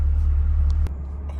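2023 C8 Corvette Stingray driving, heard as a low, steady engine rumble that drops slightly in level partway through the short stretch.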